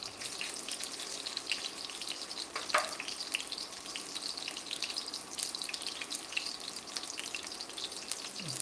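Garlic and ginger frying in peanut oil in a pan that is not very hot: a soft, steady sizzle with faint crackles, continuous and unaccompanied by speech.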